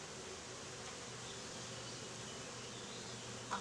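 Honeybees hum steadily over a frame of brood and larvae lifted from a hive, a soft continuous buzz close by with no voices.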